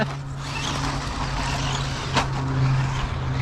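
KGF 1813 1/18 scale RC rig driving on a track: a constant whirring electric motor hum with a steady tonal whine, rising slightly near the end, close, with a brief scuffing burst partway through.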